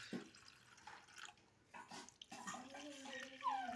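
Water trickles and splashes into a container as it is poured for pet cockatiels and other caged birds, soft and close, with irregular drips and faint bird chirps near the end.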